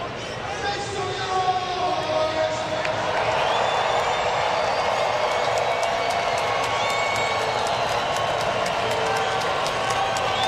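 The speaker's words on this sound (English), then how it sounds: "Truist Park getting loud." A packed crowd of over 37,000 at Truist Park roars through a Blue Jays–Braves baseball game, a dense sustained swell of cheering and clapping that builds and holds loud throughout.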